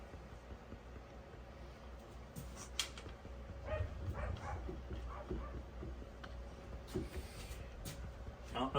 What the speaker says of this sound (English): I don't know if you can hear the dogs barking in the background